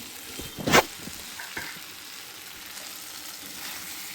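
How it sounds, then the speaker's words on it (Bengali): Boiled potato and chopped egg frying in a wok give a continuous close sizzle, broken early by a sharp scraping clatter of a spatula and a couple of softer knocks. "এবার হালকা করে ভেজে নেব, কারণ আলুটা সিদ্ধ ছিল, না ভাজলে ঢুকবে না"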